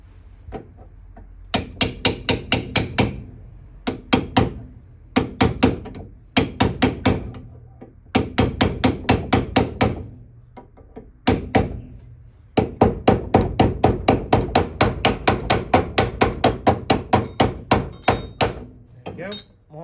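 A hammer peens over a tab washer on Hillman Imp front suspension, delivering rapid bursts of sharp metallic blows in uneven groups with short pauses, close and loud, with a voice briefly in the background.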